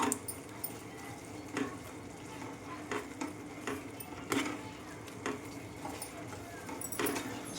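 Maggi noodles tossed with masala in a pan, giving a soft scraping stir with a few sharper clinks of the spoon against metal over a low background hiss, fairly close and steady.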